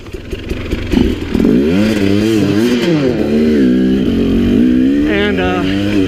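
A 2017 KTM 300 XC two-stroke dirt bike revs hard while riding a trail, its loud, close engine note climbing and falling in repeated surges, with wind and rattling mixed in.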